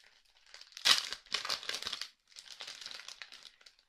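A small 49-cent packet of little stickers is torn open, giving close, crisp bursts of plastic crinkling and tearing in two spells with a brief pause between them.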